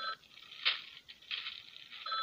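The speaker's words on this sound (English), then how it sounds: "Answer the phone." A telephone rings in short repeated bursts with gaps between them, fairly quiet and heard alone with no voices over it.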